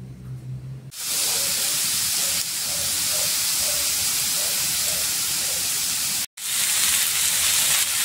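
Chopped garlic and a spoonful of butter sizzle in a frying pan, a loud steady hiss that starts abruptly, runs continuously, briefly cuts out near the end and resumes.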